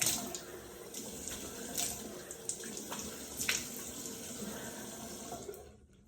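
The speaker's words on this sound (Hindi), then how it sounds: "पहले तो मैं सबसे पहले मुंह धोऊंगी क्योंकि सुस्ती बहुत आ रही है।" Running tap water splashes steadily into a sink while a person washes their face, with faint splashes and hand movements over the constant flow until it cuts off at the end.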